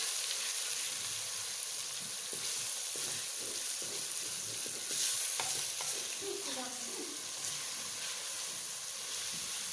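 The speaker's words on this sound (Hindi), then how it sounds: "अभी अच्छी तरह भून लेते हैं कीमे, और ये कीमे सारी भूनेंगे।" Chicken mince fries in a pan, a continuous close sizzle with occasional spatter and stirring scrapes, moderate and steady throughout.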